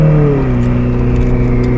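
A Novitec-tuned Ferrari F8 Spider engine runs through its Novitec exhaust, giving a loud, steady, deep drone that falls slightly in pitch early on and then holds a continuous hum, close and alone.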